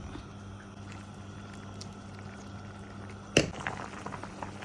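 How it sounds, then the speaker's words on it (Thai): Sour curry with fish heads and vegetables boiling in a pot, a soft steady bubbling that runs throughout, broken by one louder clank or splash near the end. "เดือดปุดปุดปัดปัดเลยนี่ยังไม่เคยคนเลยนะเนี่ย"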